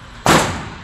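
A single sharp gunshot from a Tanfoglio .25 caliber pistol at a shooting range, loud and close, with a sudden crack followed by a short decaying tail.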